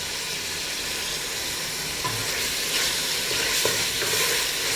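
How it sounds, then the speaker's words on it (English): Ground meat for spaghetti Bolognese browning in a hot pan, a steady loud sizzle with occasional scraping stirs and spatters cutting through, close and continuous. "the best way to brown the meat is just spread it out"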